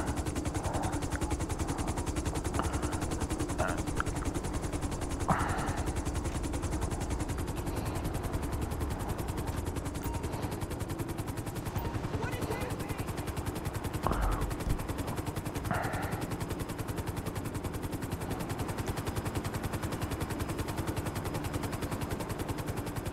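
A helicopter rotor drones steadily throughout a Grand Theft Auto V Online heist scene on PS5, with a few scattered gunfire bursts at moderate distance and no speech over it.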